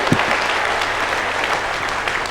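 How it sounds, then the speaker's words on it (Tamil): An audience claps steadily and warmly for a family at a Tamil gathering, a dense continuous round of applause heard close and fairly loud. "இங்கே இருப்பவர்கள் கைத்தட்டி இவர்களை பாராட்ட வேண்டும் என்று கொள்கிறேன்"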